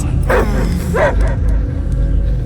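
A dog barks in the Guardians of the Galaxy video game, two loud close barks in the first second, followed by a faint low rumble and quieter background sounds.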